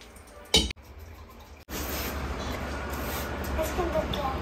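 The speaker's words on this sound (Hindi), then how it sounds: "अब इसके अंदर हम पानी मिला लेंगे।" Water poured into a bowl of yogurt to thin it into buttermilk, a steady close splashing pour that starts after a brief clatter and continues through the clip.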